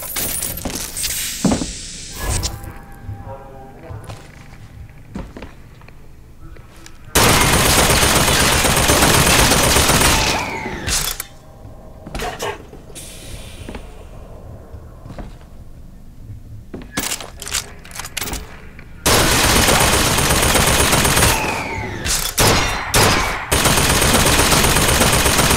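Bursts of rapid automated turret fire in Bioshock Infinite ring out loud and close, long sustained volleys with sharp single cracks and clatter between them, and no talk over them.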